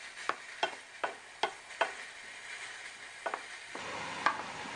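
Cashews and raisins frying in ghee in a pan, with a steady light sizzle under a series of sharp spoon taps and stirs against the pan, roughly evenly spaced and close, with no talking.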